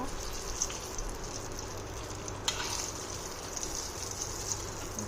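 Eggplant slices fry in a pan, giving a steady soft sizzle and crackle at low volume with a few faint clinks, while a voice speaks quietly over it.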